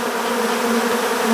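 Africanized honey bees, hundreds of them and agitated, buzz steadily and loudly around an open hive in a continuous droning hum with no talk.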